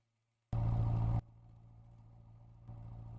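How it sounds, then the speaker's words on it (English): A car engine idles in the racing game Assetto Corsa, a steady low hum that cuts in with a brief louder burst, then settles into a quieter drone that swells slightly near the end. "Let me know if y'all can hear the car"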